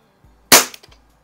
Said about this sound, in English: let's go ahead and cock it and try the single action